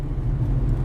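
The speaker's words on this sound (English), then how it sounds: "these cars are driving like 2 miles an hour today" Steady low rumble of road traffic, cars crawling along slowly in congestion, heard from close by as a continuous murmur with no clear individual passes.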